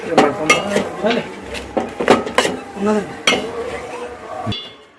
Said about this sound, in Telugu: దీన్ని మూత పెట్టుకుందాం